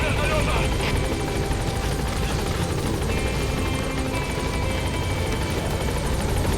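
Steady rotor and engine roar of a helicopter in the video game Metal Gear Solid V: The Phantom Pain, loud and continuous throughout, with a voice speaking briefly near the start.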